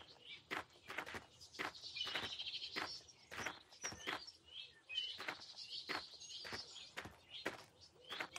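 Birds chirp on a nature walk with repeated short, bright tweets and trills, mixed with soft tapping steps, fairly quiet and without speech.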